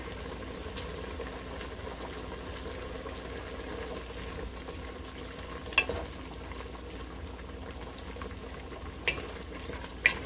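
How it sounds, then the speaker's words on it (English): Pork belly and rainbow chard simmer in liquid in a pan. A quiet, steady bubbling hiss runs throughout, broken by a few small clicks. "Go ahead and let that simmer and let some of the liquid evaporate"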